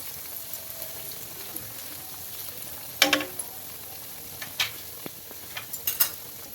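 Bread potato rolls fry in oil over a medium flame, a quiet steady sizzle with scattered crackles and a few sharp utensil clicks close by.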